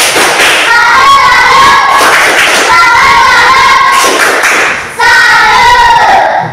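Children in a classroom run through a 'tepuk salut' clapping routine, loud rhythmic claps in patterned bursts with a voiced chant running through the claps and a brief pause near the end before the routine resumes.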